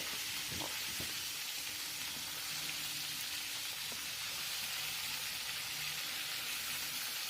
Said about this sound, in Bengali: এবার শিমগুলো আমি দিয়ে দেব। শিমগুলো খুব ভালো করে ভাজতে হবে।